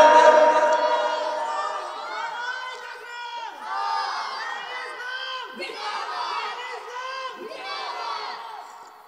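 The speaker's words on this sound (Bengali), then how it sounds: "তাকবীর দেন, জোরে তাকবীর দেন।" A large crowd at a Bangladeshi waz religious gathering shouts takbir loudly in unison, repeated swelling chants of massed voices that rise and fall in several waves.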